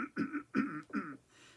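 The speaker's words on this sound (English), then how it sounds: "clear my throat there." Three guttural throat-clearing bursts from someone speaking on a video call, close and fairly loud, evenly spaced, followed by a soft breath.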